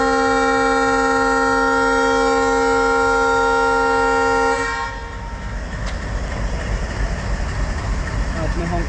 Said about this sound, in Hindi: आपने हॉकिंग सुनी डीजल लोकोमोटिव की।